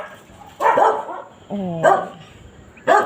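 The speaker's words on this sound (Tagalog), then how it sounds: "Ang ingay ng mga aso guys." Dogs bark in several loud, close bursts spaced about a second apart, with a short whine or yip between them; a single brief word is spoken.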